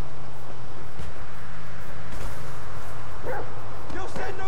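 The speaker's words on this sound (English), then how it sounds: "This right here is one sick, nasty-ass motherfucking dog." Dog barks and yips from a hostile, aggressive dog in Grand Theft Auto V story mode, repeated under a loud mix of game sound and someone talking.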